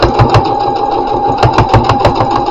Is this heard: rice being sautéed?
no